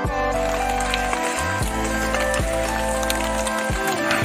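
Rain falls steadily in a jungle, a dense continuous hiss with scattered drips and patters close by, running throughout with no speech.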